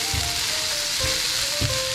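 Stir-fry sauce hits a hot pan of chicken sausage with a loud, steady sizzle that hisses on without a break, and a few soft scrapes and knocks break in at intervals.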